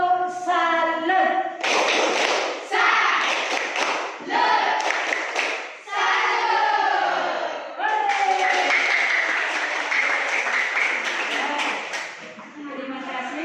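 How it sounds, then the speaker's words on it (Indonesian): Children chant the tepuk salut in unison during a classroom lesson, voices rising and falling in a steady rhythm with hand claps and taps throughout, fairly loud and close for about thirteen seconds. "Mari kita melaksanakan tepuk salut."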